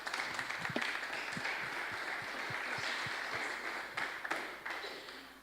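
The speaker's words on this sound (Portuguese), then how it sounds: "Uma salva de palmas para ela." A church congregation at a worship seminar claps for a pastor in a small, quiet round of applause with scattered individual claps audible near the front, lasting about five seconds.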